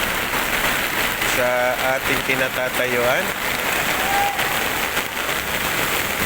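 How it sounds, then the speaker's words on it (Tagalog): Heavy rain pours steadily during Typhoon Carina in flooded Metro Manila, a loud, continuous wash of falling water under a person talking throughout. "kasalukuyan pa rin umuulan at baha na po dito"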